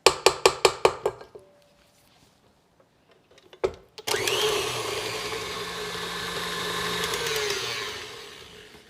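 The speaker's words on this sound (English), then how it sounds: "Make it easier for the mixer to mix up this goodness for us." Electric mixer beating chocolate mint cookie dough, with several sharp taps at the start, then a steady loud motor whir that runs continuously close by.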